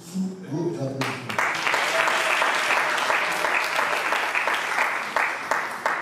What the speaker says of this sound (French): Rosadi, une fois de plus, sous vos applaudissements.